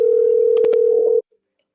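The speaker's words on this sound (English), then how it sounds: "let's see if we can have this individual pick the phone up" A steady telephone ringback tone plays while a call is placed to a caller, loud and continuous, with a few brief clicks partway through before it cuts off abruptly.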